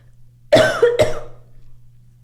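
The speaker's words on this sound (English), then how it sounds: "No, but I've just been coughing recently" Two sharp coughs in quick succession, close and loud, followed by a short fading breath against a quiet background.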